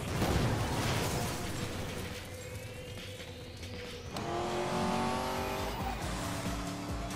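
Cars race in a police pursuit in Need for Speed Most Wanted (2012): loud engine roars with climbing revs, squealing tires and skids, and a sharp burst partway through.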